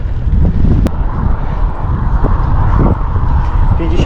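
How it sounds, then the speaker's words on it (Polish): Heavy wind buffeting straight into the microphone while cycling a mountain road toward the Kocierska Pass in Poland, a loud low rumble with gusty bursts throughout. "Wiatr wieje prosto w pysk."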